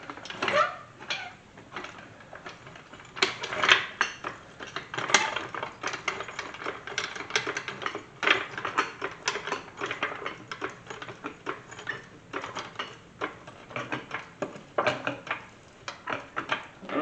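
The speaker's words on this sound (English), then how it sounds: "So now I gotta get the floor jack underneath that lower control arm." Near a 1991 Chevy OBS truck, a floor jack is worked under the lower control arm, giving irregular metallic clanks, ratcheting clicks and knocks that come in uneven bursts over about seventeen seconds.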